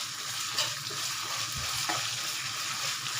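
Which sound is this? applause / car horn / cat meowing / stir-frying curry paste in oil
stir-frying curry paste in oil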